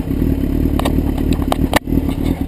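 A motorcycle engine idles steadily and close as the rider slowly lets the clutch out, with a few light mechanical clicks and a brief dip near the end.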